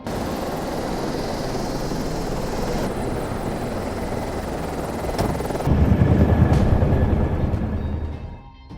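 A hospital helicopter in a film flies with a constant rotor and engine roar that swells louder and closer near the end before cutting away quickly.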